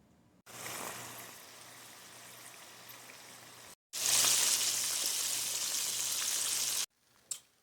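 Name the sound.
crappie and catfish fillets sizzling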